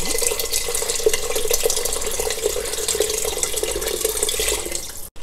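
Water being poured into a cooking pot for sambar rice, a continuous splashing, gurgling stream heard close up and steady until a brief stop at the end.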